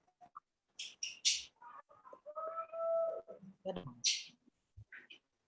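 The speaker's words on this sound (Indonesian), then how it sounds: "Oh, ayam. Tuh itu ada." A chicken clucks in short, sharp bursts in the background of an Islamic studies classroom lecture, scattered among nearby talking.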